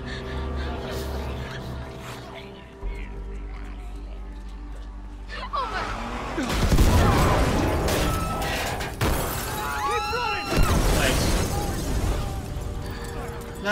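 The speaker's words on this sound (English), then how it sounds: "Nice fucking explosion!" A loud explosion bursts out in The Last of Us Part 2 amid gunfire, breaking into a dense, crackling roar that stays loud for several seconds after a quieter, rumbling lead-in, with a voice talking over it.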